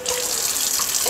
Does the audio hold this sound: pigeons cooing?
no